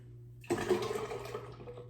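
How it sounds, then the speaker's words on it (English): After a low background hum, an electrolyte drink mixture suddenly pours and splashes into water, a burbling gush that tapers off gradually. "you're just gonna pour this mixture into your water"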